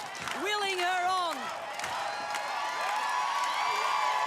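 A crowd cheers and whoops for a woman competitor on the tilting frames of an Australian Ninja Warrior course, a steady roar of shouting that runs the whole time while an excited voice calls over it near the start.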